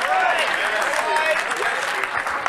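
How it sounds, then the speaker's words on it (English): A church congregation claps its hands steadily and loudly throughout, a dense wash of applause with voices mixed in. "if you clap your hands right now"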